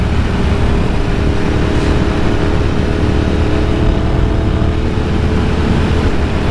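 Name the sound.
Ducati Sport Classic 1000S motorcycle engine accelerating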